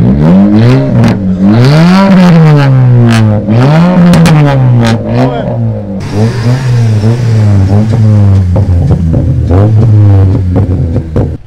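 A Honda car engine at the Honda Euro Meet 2023 car event revs hard and loud, climbing and dropping in repeated surges, then settles into a sustained roaring rev, with no voices.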